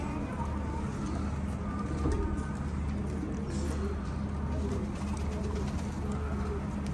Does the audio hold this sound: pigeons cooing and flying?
yes